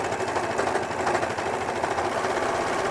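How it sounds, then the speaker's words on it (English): An overlocker runs continuously as it serges the waistband of a thrifted trouser being remade into a two-piece, giving a loud, steady mechanical whir with rapid stitching rattle that does not let up. "now let's just go ahead and overlock the waistband"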